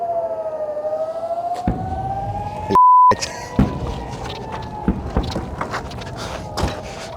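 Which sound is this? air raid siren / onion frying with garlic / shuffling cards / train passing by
air raid siren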